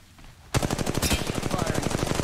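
Rapid automatic gunfire from a weapon in the mobile shooter Apex Legends Mobile erupts abruptly after a brief quiet moment, a fast, steady burst of loud shots.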